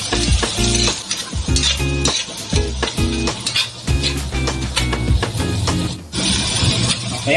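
Red chilies, garlic and onions sautéing in a pan for Bicol Express give a loud, steady sizzle broken by repeated scraping and clattering strokes of a utensil stirring against the pan, with no talking.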